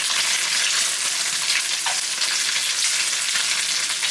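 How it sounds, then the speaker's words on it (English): Tofu, radish, dried shrimp and egg stir-fry for pad thai in a hot pan, giving a loud, dense, continuous sizzle and crackle close by, with no talking. "Now I'm going to add my tofu, my radishes, and the dried shrimp."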